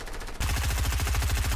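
Rapid automatic gunfire in Fortnite, a 2021 2v2 team deathmatch match, starts abruptly after a brief quieter moment and continues as a loud, steady burst of shots.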